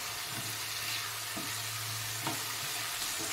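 Potatoes fry and stir in spiced masala in a pan for a Bengali rohu fish curry, a steady close sizzle running throughout with a few soft stirring knocks and no talking.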